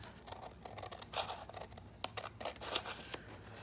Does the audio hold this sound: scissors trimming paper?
yes